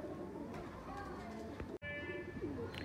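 A male pigeon coos softly nearby over steady background noise, with a brief dropout midway and someone talking faintly in Hindi-Urdu underneath.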